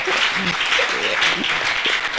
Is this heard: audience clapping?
yes